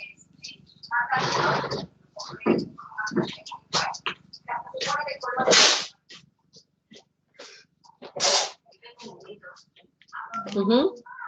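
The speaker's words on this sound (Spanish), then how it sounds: "cada vez cuando estornudo y cierro los ojos, siento que me voy a caer" A person sneezes, a short sharp burst set among quiet, close conversation and whispery speech from a small group indoors.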